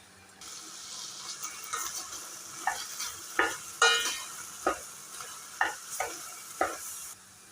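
Ground coconut paste cooking in a pan for a Kerala-style avial curry, a soft sizzle under a series of regular spoon scrapes and stirs, close and moderately loud.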